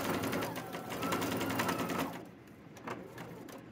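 A sewing machine stitches a welt pocket with flap on a trench coat, running in a fast, steady rhythmic whir up close before stopping, followed by a few quieter stitches.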